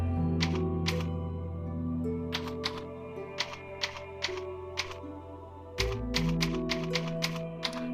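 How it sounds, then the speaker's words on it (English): Typewriter keys clacking in Resident Evil 4 VR, a gold New Game Plus typewriter, heard as irregular bursts of sharp taps over a steady game music bed. "This is my New Game Plus typewriter."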